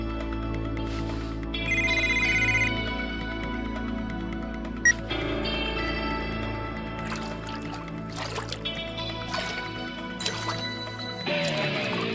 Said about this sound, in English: How can my phone be ringing here?